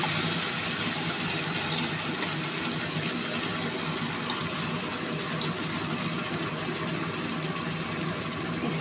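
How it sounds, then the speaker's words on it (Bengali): Water running steadily into a kitchen mixer jar to rinse it, a continuous close gushing and splashing that stays loud and even throughout, with no speech over it. "মিক্সিটা ধুয়ে একটু জল দিয়ে দিলাম।"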